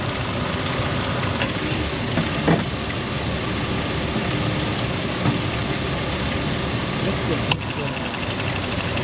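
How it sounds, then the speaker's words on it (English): A Mercury Mountaineer engine idles with a steady, close rumble. Its AC compressor kicks on with brief clicks partway through and again near the end. "Which the AC compressor is that right there. Yep, right there it went."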